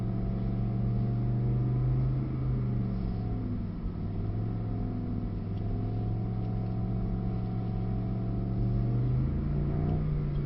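A Mercedes-Benz SL63 engine hums and rises in pitch as it accelerates, heard from inside the car, steady and continuous without talking.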